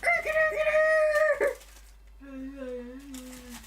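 Clucking and squawking from a chicken monster in the PlayStation game Legend of Dragoon, a loud, rising bird-like cry over the first second and a half, followed by a softer, lower call.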